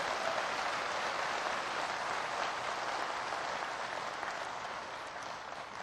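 An audience claps in a sustained, dense round of applause, steady and fairly loud for several seconds before easing off slightly at the end.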